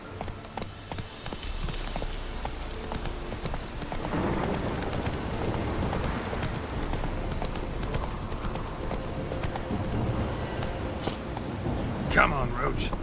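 Roach, a horse in The Witcher 3, trots with rhythmic, fairly close hoof clip-clops that run steadily across the whole stretch under a low background bed, with a brief sharper knock near the end.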